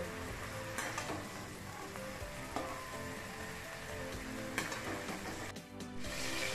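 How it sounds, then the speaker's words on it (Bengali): Whole garam masala spices, bay leaf, dried chillies and mace pieces fry in hot oil for a cauliflower korma, giving a steady close sizzle with faint crackles and occasional light stirring scrapes throughout. "এবারে আমি তেলের মধ্যে সমস্ত ফোড়নের মশলা দিয়ে দিলাম, গোটা গরম মশলা, তেজপাতা, শুকনো লঙ্কা আর জয়িত্রীর টুকরো"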